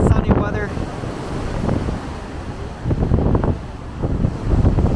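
Wind buffets the deck of a ferry crossing the Sea of Japan near Sado Island, with loud, gusty rumbling over the rush of waves. A voice may be talking faintly underneath.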